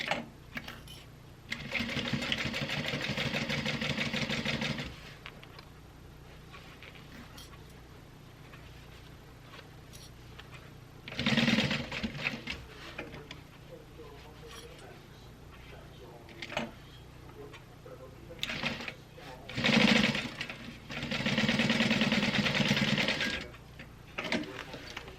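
A sewing machine stitching a milk box bag runs in several bursts of a few seconds each, with a steady whirring hum and pauses between runs, and a person talks quietly in between.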